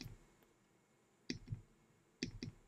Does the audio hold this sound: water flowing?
no